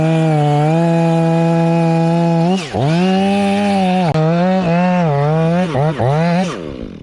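Loud, close chainsaw cutting a V-cut into a tree on a tree removal job, engine held at a steady high whine with several brief dips and bog-downs as the bar bites, then revving off at the end.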